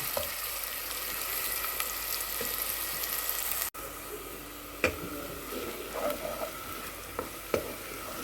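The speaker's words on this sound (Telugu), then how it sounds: "తిప్పుకుంటూ వేయించండి ఎర్రగా చోళే అండి" Chickpeas for chole masala fry in hot oil while being stirred, a steady close sizzle with occasional scraping clicks of the spoon and no voices.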